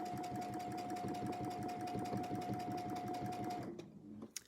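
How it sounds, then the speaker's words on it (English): A sewing machine runs steadily during free-motion quilting on an intersection quilt, rapid rhythmic needle ticking with a constant motor hum at close range, then stops abruptly near the end, followed by a short click. "Just keeping that machine going very rhythmically"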